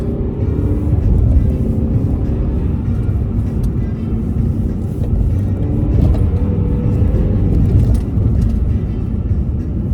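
Audi A4 S line car driving in sports mode on the Kosutnjak rally track in Belgrade, a loud steady engine drone with road rumble filling the cabin throughout, no speech.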